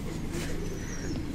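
Pigeons in a loft, including a European pigeon, cooing softly and steadily at close range, low rolling calls repeating over a constant hum of the loft.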